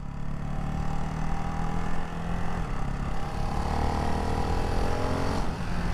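A 2024 Ducati Hypermotard 698 Mono RVE single-cylinder motorcycle pulls away, its engine note rising steadily under a constant rushing drone, with no talking.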